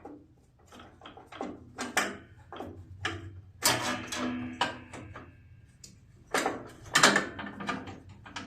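Ratchet wrench working a 10 mm bolt on a John Deere L120 riding mower, irregular bursts of clicking and metallic clanks, close and fairly quiet, with pauses between strokes.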